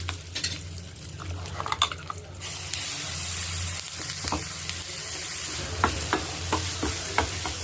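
Ground urad dal chutney hits a hot kadai of tempering with cumin, asafoetida and curry leaves, a bright sustained sizzle with scraping stirs and a few sharp clinks of the spoon.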